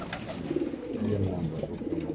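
Low, throaty cooing from a female pigeon repeats in soft rolling phrases, close by against a faint steady background hum, no talking.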